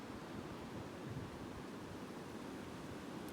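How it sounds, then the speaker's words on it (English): Steady, unbroken wind rushes and roars across the microphone with a dense, hissing texture and no pauses, in the woods. "as it's quite windy here"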